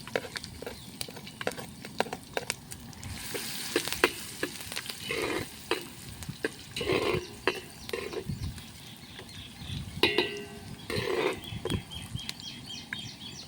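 Garlic and ginger frying with peanuts in a pan over a Khandeshi clay chulha for khichdi, a steady crackling sizzle with scattered sharp pops and occasional stirring scrapes throughout.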